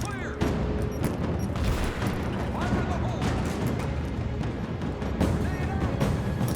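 Grenade blasts and gunfire in the video game Rise of the Tomb Raider, with booming explosions and scattered shots layered over a dense, continuous battle din.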